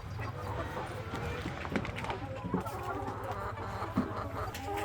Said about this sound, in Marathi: गावठी कोंबड्यांची पोल्ट्री देखील आहे.